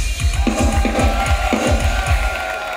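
Cheering metal concert crowd in Budapest roars steadily over the closing of a live band's set, with rhythmic kick-drum pulses and droning stage noise underneath.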